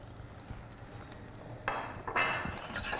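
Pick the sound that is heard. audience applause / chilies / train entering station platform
chilies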